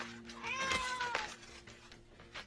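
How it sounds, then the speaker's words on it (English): Cat meowing from inside a carrier, a single plaintive meow followed by faint shuffling and low background noise. "you mean you brought a cat with you?"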